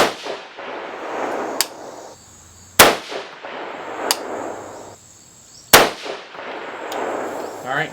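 Three loud 6.5 Grendel shots from an R15 rifle, firing higher loads, each a sharp crack with a ringing tail, spaced a few seconds apart against a quieter outdoor background.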